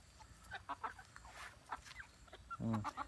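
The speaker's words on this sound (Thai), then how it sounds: "ตัวผู้ที่เป็น ไก่แจ้คอทอง ตัวนี้ครับ" A golden-necked bantam rooster on a mixed-breed chicken farm in a forest garden gives a short burst of clucking near the end, after scattered faint bird calls over quiet outdoor background.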